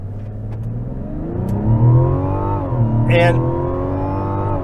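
A 2024 Mazda CX-90 Turbo S pulls hard at full throttle on a night drive, the engine note climbing steadily through the revs with a shift near the middle, heard from inside the cabin while the driver says a word.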